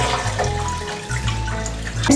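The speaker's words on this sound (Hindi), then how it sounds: "उस गिलास के हिसाब से जितने चावल हैं उसका डबल पानी डालना है" Water poured from a glass into a pot of rice while cooking methi khichdi, a close, steady splashing pour that pauses briefly in the middle and then resumes.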